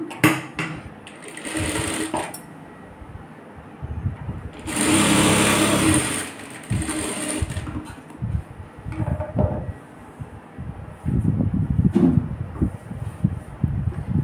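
A sewing machine stitches the sleeve joint of a blouse in short bursts, its rapid mechanical chatter starting and stopping close by, with one longer steady run in the middle and some handling noise between runs.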